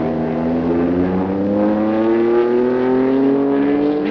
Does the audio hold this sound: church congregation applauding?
no